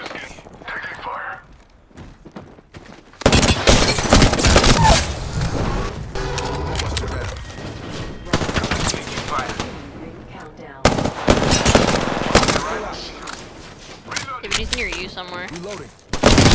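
Apex Legends match on Xbox ranked play, with loud bursts of rapid automatic gunfire and heavier shots coming in waves, mixed with game effects while players talk over the action.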